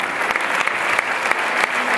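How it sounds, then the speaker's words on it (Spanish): A church congregation gives loud, lively applause during a sermon gathering, rapid continuous clapping with a few sharper individual claps standing out. "Denle un fuerte aplauso a los discípulos"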